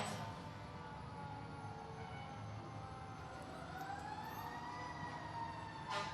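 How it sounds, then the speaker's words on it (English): A Rockport fire engine's siren wails faintly and at a distance in a town parade, a rising tone drifting over a steady crowd and street background. "Now we see a fire truck here from Rockport."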